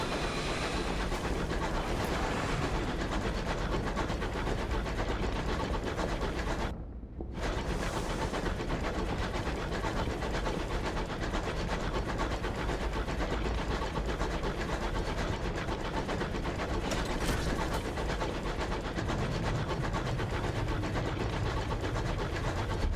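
A locomotive running in the video game Sunless Skies: a steady, loud, continuous engine rumble with rhythmic clattering, broken only by a brief dropout, with no talking.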